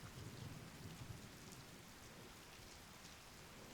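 Steady, dense rain pours throughout a storm, a constant close hiss of drops on surfaces with low rumbling underneath, no voices.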